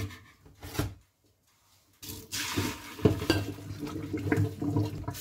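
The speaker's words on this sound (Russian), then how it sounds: "Мясо слегка промываю." Meat for sauerkraut shchi is rinsed under running water in a kitchen, with splashing and dish clatter in bursts around a brief quiet pause, close and moderately loud.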